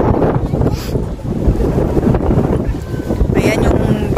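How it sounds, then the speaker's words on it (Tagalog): Strong wind buffets the microphone near the peak of Mt. Buram, roaring loudly and steadily across the whole stretch while voices talk faintly underneath. "Sobrang hangin mga kaborlogs."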